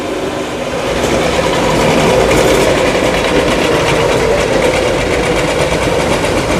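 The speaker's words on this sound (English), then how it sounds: "Somebody's engine is loud and polluting the atmosphere." A loud engine outside gives a continuous, heavy rumbling drone that holds steady and close throughout, with no voices over it.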